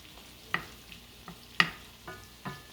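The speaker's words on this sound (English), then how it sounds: "we're going to be sauteing this for about 5 minutes" Garlic shrimp sauteing in a pan for a Spanish-Mexican dish: a quiet, steady sizzle with a few sharp clicks and pops as the food is stirred and moved, no voices.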